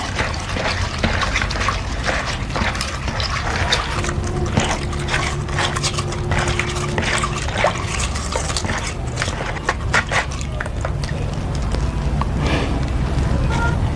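Running water rinsing a handful of dried bay leaves for tea, a steady splashing trickle with drips throughout, close and fairly loud with no talk over it.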